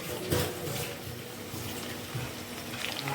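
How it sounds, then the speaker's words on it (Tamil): Chopped garlic fries in hot oil for a spicy South Indian fish pickle, a close, steady hissing sizzle that stays even throughout with no voices. "அந்த பூண்டு வந்து நல்லா ஃப்ரை ஆகி ஒரு கோல்டன் ப்ரௌன் கலருக்கு வர வரைக்கும் ஃப்ரை பண்ணும்"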